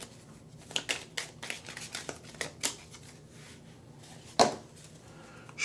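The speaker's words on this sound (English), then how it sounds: "Let's shuffle." Tarot cards being shuffled by hand, a series of short papery riffles and taps in irregular bursts, with one sharper louder snap near the end, close and fairly quiet.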